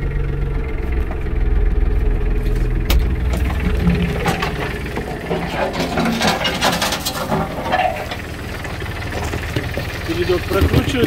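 Diesel engine of an Iseki TK29FF compact tractor running steadily nearby, a low rumbling drone with faint knocking and rattles, while a person talks over it as the gear is shifted lower.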